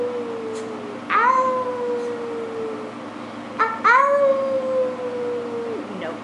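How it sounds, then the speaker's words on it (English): Two household pets howl. There are two long, rising-then-falling howls, each held for a couple of seconds, close and fairly loud over a quiet indoor background. "But they do howl if we howl."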